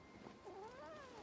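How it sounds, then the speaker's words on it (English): In the video game Wuthering Waves, a cat gives a single drawn-out meow, faint and quiet, with the pitch wavering upward and then falling away. "Oh! It's a kitty!"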